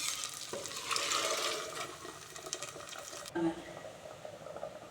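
Eggplant and field beans sauté in a pan with a steady frying hiss and stirring scrapes, ending in a brief wet clatter as the beans are added.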